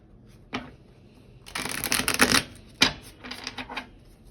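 Tarot and oracle cards shuffled close by in several crisp bursts: a single snap, a longer riffle, another sharp snap, then a final flurry, with no talking.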